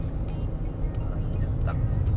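A vehicle drives along a sandy shortcut, with a steady low engine rumble and tyre noise heard from inside the cabin and faint clicks over it, while someone talks.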